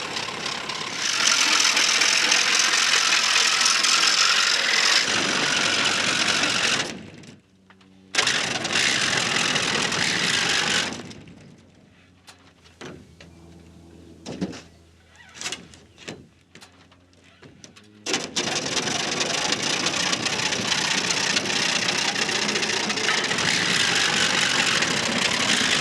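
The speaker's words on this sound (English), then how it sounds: "The tighter you hold the sawzall against the polycarbonate," Reciprocating saw cutting a polycarbonate panel for a high tunnel greenhouse, heard as loud, harsh, sustained buzzing bursts, broken by a quieter stretch of scattered knocks and clicks before the cutting resumes.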